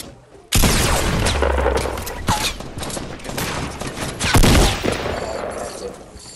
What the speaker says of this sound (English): Is that you shooting me?